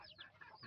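Darag native chicken, about six months old, clucking in a short run of close, moderately loud calls with no voices over it.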